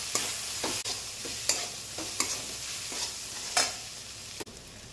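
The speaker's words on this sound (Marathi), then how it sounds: "सगळ्या भाज्या आपण फ्राय करून घेतो" Capsicum and carrot sizzle steadily as they are stir-fried in a pan, with a bright continuous hiss broken by regular scraping strokes of a spatula, close and loud, without talk.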